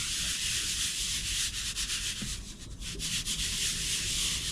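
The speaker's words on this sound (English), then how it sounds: "Put the lid on, and then we just shake it." A lidded container of homemade deer attractant made from corn is shaken hard, giving a continuous close gritty rattle and rustle of grain that dips briefly midway before resuming.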